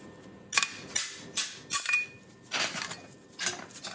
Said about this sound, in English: Now let's hammer it on out.